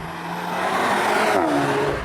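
A 2021 Volkswagen Golf GTI engine pulls hard under acceleration from inside the car, a loud steady drone whose pitch rises, then dips briefly as a gear shifts before climbing again.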